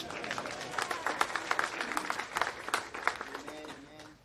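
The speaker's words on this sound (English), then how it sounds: "A round of applause to our secretary." An audience in a hall at a veterans' event applauds, a moderate spread of clapping with scattered sharper claps, heard from somewhat far off.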